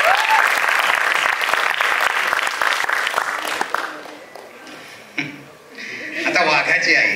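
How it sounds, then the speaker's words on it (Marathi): Loud audience applause for Siddharth at a Marathi film trailer launch, dense clapping with cheers that fades after a few seconds before a short second burst of clapping returns. "एकदा जोरदार टाळ्या सिद्धार्थसाठी"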